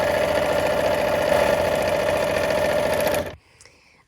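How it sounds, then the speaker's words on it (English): A sewing machine stitching a quilt pouch, a steady fast whirring hum at constant speed for about three seconds before stopping abruptly into near silence. "Just a real nice, easy bit of sewing."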